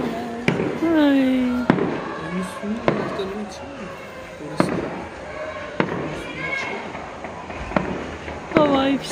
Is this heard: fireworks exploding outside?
yes